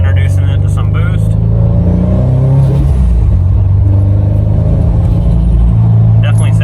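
An 800whp Subaru STI on its first drive on icy roads, engine rumbling loudly and rising under turbo boost from inside the car, with bursts of chatter or whooshing at the start and end.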